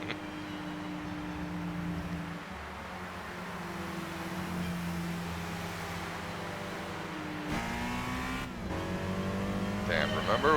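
Subaru BRZ engine note from the racing video game Gran Turismo 5, a steady droning hum held for several seconds, then a rising rev toward the end with a harsher, louder whine.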